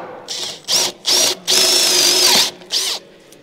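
Power drill boring into oak timber frame, five bursts of high whining spin with short pauses between them, the longest lasting about a second, loud and close.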